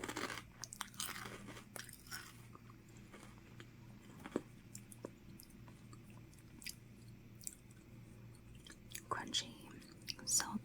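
Crunchy zucchini snack chips are bitten and chewed close to the mic in repeated crisp crunches over about ten seconds, with soft whispered speech in between.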